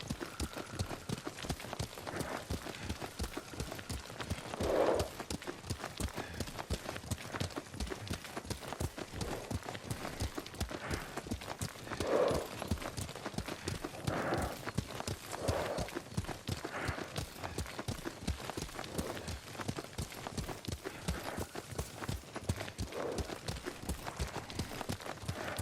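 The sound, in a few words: horse hooves while riding, from video game Ghost of Tsushima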